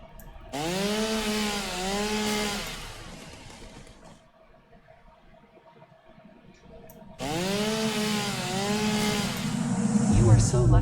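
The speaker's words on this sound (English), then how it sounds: "are you running the chainsaw?" Chainsaw running in the video game Satisfactory, two loud buzzing revving bursts with a quiet gap between, the engine whine rising and falling in pitch.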